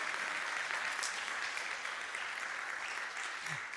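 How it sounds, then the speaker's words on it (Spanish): A church congregation applauds, a dense and even wash of clapping that holds steady throughout at moderate distance with no voices. "Denle un aplauso a Dios esta tarde."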